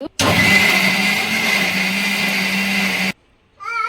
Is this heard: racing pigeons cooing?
no